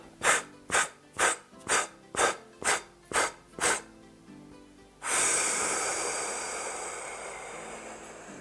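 Series of eight quick rhythmic breaths in a vocal warm-up exercise, evenly spaced puffs, followed by a long, deep, airy inhale that stays close and steady.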